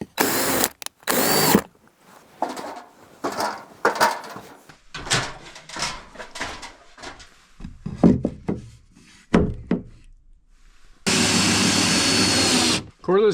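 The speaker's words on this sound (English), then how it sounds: "cordless drills still do a really nice job" A cordless drill runs in short bursts of whirring with pauses and some knocks between, ending in a long, steady, loud whine, heard close while work goes on during a home fire sprinkler installation.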